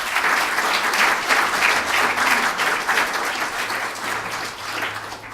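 Reception guests at a leadership academy event give a loud, sustained round of applause, dense clapping continuing evenly for over five seconds before tapering slightly.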